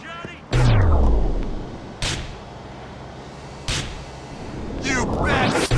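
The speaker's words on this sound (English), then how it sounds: "Those barrels explode good, Johnny." Barrels blowing up in the video game GTA The Lost and Damned, with a loud booming blast followed by two more sharp explosive cracks over a rumbling game background.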